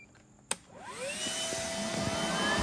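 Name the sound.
Stihl and Greenworks leaf blower motors running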